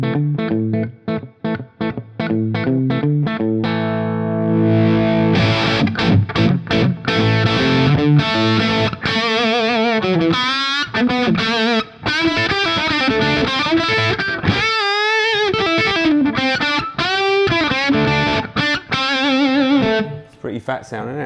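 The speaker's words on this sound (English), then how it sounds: "this one's got a great sounding set of Seymour Duncan pickups in there. Just roll through the tones." A single-cut electric guitar with Seymour Duncan pickups, played through heavy distortion: loud, close chugging riffs and sustained bent lead notes, with brief pauses between phrases and no talk.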